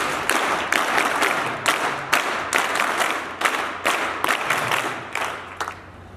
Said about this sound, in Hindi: उनका हम जोरदार तालियों से वीर का स्वागत करेंगे।